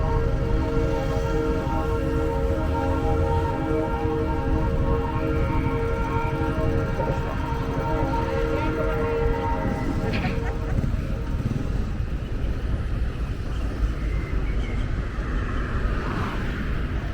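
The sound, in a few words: train passing on the rail line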